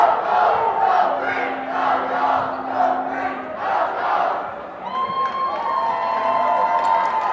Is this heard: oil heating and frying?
no